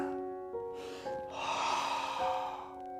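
Audible breaths drawn in and let out during a gentle somatic movement exercise class, an inhale then a longer exhale, close and fairly loud over steady background music, with no talk.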